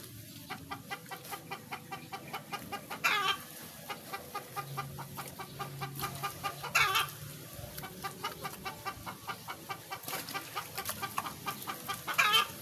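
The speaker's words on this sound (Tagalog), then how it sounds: "Yung aking manok, pumuputok." Chickens cluck repeatedly in a soft, rhythmic patter, with a few louder squawks breaking through at intervals.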